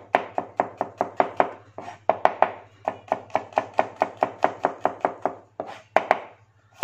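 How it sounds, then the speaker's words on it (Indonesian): A knife coarsely chopping garlic on a cutting board in a steady, fast rhythm of about two dozen crisp, close knocks. A short pause comes midway and another near the end, and no one speaks. "bawang putih kita potong"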